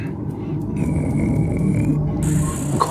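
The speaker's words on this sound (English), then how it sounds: "I can't hear you over all this snoring" Deep, rumbling snores from sleeping creatures in the video game Legend of Spyro: The Eternal Night, a steady low drone with a sustained tonal musical layer above it and no speech.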